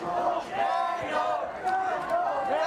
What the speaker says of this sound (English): Crowd chanting Nando